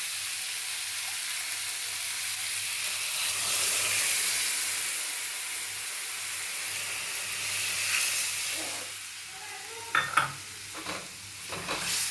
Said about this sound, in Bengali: আলু আর পনির ফ্রাই করা হয়ে গেছে, এবার আমি কড়াইতে জল দিয়ে দিই।